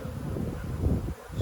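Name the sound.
honeybees buzzing at the hive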